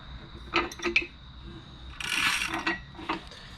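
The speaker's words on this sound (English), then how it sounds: "you should be able to just push piston right down the motor" Piston pushed through a ring compressor into a built Honda K24 engine block, several short metallic scraping clicks and a longer sliding rasp, close and fairly quiet, in an otherwise still workshop.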